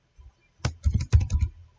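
Quick burst of typing on a computer keyboard, a cluster of crisp key clicks lasting about a second after a brief pause, with no speech.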